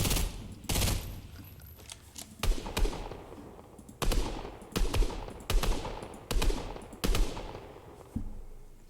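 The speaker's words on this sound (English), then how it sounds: "let's get the burst assault rifle now" Burst assault rifle in the video game Fortnite firing repeated short three-round bursts, each a sharp, deep crack with a ringing tail, spaced about a second apart and fairly loud, with no voices.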